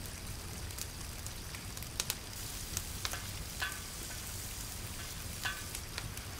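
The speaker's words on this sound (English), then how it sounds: "We sear them for a minute, and we add the white onions, followed by the garlic and the parsnips." White onions, garlic and parsnips searing in a pot for a smoked pork and ribs bean dish, a steady crackling sizzle with scattered sharp pops and occasional stirring clicks throughout.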